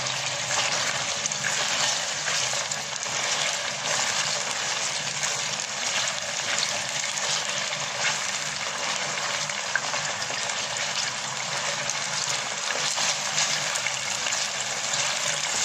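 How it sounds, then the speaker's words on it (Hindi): Chicken mixed with achar masala fries in a pan, making a dense, unbroken hiss that stays close and even throughout and never lets up, with no talking over it. "अब चिकन फ्राई हो रहा है"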